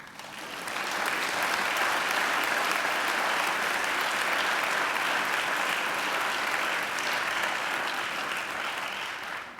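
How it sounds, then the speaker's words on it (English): A graduation ceremony audience in a large hall applauds the singer, a broad sustained roar of clapping that swells in quickly, holds steady for several seconds and starts to taper at the end. "I think she needs another great round of applause."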